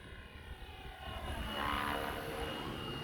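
A Flywing Bell 206 RC model helicopter hovers and flies during an endurance test, its rotor and motor making a steady, moderately loud whir that swells slightly midway, with no talking.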